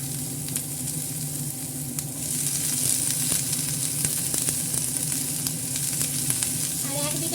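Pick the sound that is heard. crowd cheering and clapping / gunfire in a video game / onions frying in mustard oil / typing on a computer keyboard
onions frying in mustard oil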